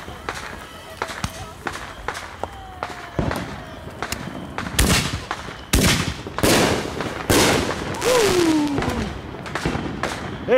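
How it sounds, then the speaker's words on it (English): Fireworks burst all around near a house on a Fourth of July night: sharp, loud cracks and thuds come in irregular volleys that grow denser, one rising whistle cuts through, and voices are heard among the blasts. "Anywhere you look, you got fireworks going off."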